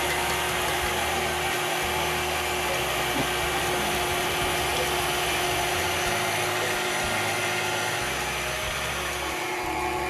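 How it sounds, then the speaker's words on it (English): An electric mixer whips cream with powdered sugar toward stiff peaks, a loud, steady motor whir with a faint rattle of beaters against the bowl and no pauses. "I will add half cup of powdered sugar and will continue whisking until stiff peaks form."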